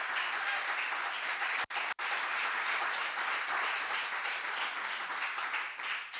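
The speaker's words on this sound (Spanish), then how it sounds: "Démosle fuerte el aplauso al Señor." A church congregation bursts into dense, sustained applause that fills the room evenly and stays loud for several seconds, with only a brief break partway through.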